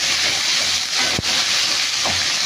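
Ingredients for caldereta, a Filipino stew with potatoes and carrots, toast in a pan with a steady close hiss and sizzle, a faint clink partway through, and no talking.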